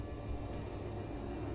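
A tram rolls past in the video game Alien: Isolation, a dense, heavy rumble with a faint metallic rattle, steady and close throughout, with no voices.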